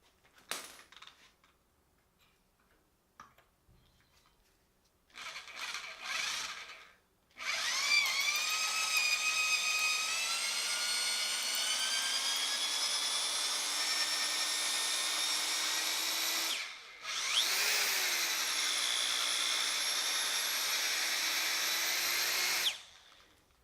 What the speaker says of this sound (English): We'll move on to the next drill bit size